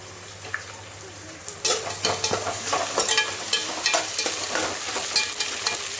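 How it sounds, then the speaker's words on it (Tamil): Onions for mutton biryani frying until brown in a pot, a bright sizzle that grows louder partway through, with frequent stirring scrapes and taps layered over it. "வெங்காயம் நல்லா ப்ரௌனிஷ் ஆகட்டும்."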